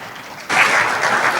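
Audience applause breaks out abruptly at a year-end ceremony for foreign students in Béjaïa, a dense steady wash of many clapping hands that follows a brief quiet moment and carries loud to the end.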